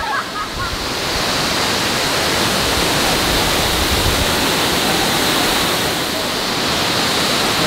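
A waterfall on Maui, Hawaii roars steadily and loudly, a dense continuous rush of falling water with no pauses.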